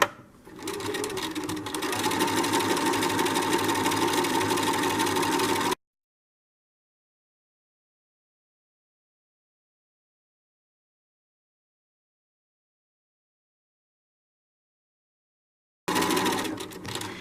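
A sewing machine stitches along the edge of fabric for a decorative pillow, giving a steady close mechanical whir for several seconds, then abrupt silence for about ten seconds before the stitching resumes briefly at the end.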